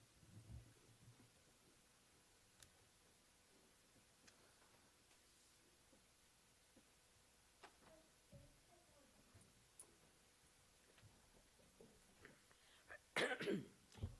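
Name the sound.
cough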